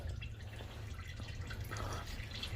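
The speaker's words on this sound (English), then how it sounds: "So coolant is slowly leaking from the water pump right here." Coolant drips slowly from a leaking water pump in a car's opened engine bay, the radiator and intercooler removed, giving faint, irregular wet patters over a steady low hum of background noise.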